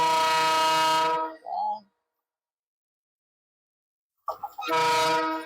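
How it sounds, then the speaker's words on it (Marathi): Two loud, sustained train horn blasts from an approaching train, separated by near silence, each lasting about a second, with brief softer tones around them. "ट्रेन आलेली आहे समोरून"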